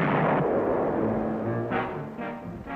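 Cartoon bomb explosion in the Batfink animated series: a loud booming blast right at the start, rumbling as it decays, followed by a few softer crackling bursts.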